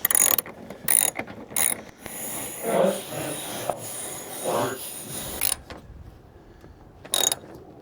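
Ratchet wrench snugging a bolt on a Dodge Ram, a series of close, sharp clicking and rasping bursts in uneven rhythm, some longer runs and some single clicks, with no talk.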